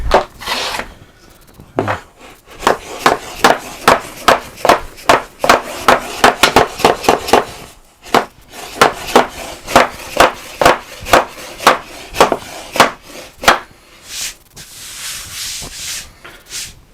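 Repeated hammer blows land on wood while a fridge door drawer is built, coming in quick, uneven bursts of sharp knocks with short pauses between them, close and loud.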